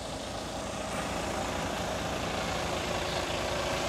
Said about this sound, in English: Euro 6 Bluetech Mercedes engine, driven through a ZF Ecolife fully automatic gearbox.